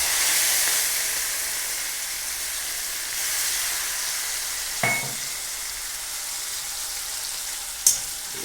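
Whole spices, asafoetida, chili and garlic sizzle in hot oil while a mung bean curry is being made. A steady, close frying hiss runs throughout, with a couple of sharp clinks or pops near the middle and the end.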